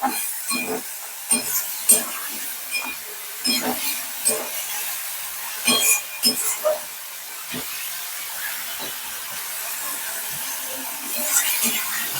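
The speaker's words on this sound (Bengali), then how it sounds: "ভীষণ ভালো করে কষিয়ে নিচ্ছি মশলাটা" Masala with Kashmiri chili powder and salt is fried and stirred in a pan for a potato and pointed gourd fish curry, giving a steady soft sizzle broken by irregular scraping strokes of a spoon.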